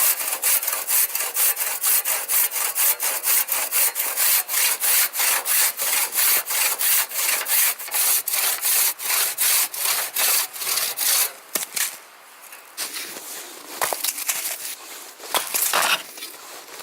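Hand saw cutting through wood for firewood at a winter hot-tent camp, a steady rapid rhythm of close, loud rasping strokes that breaks off briefly near the end and then resumes in shorter bursts.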